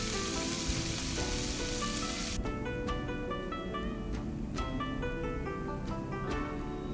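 Lean pork stir-frying in a hot wok, partly cooked, gives a steady loud sizzle that shifts partway through, with repeated light clinks and scrapes of a spatula stirring against the metal.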